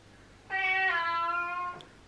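A contented house cat gives one clear, drawn-out meow lasting just over a second, close and fairly loud against a quiet indoor background.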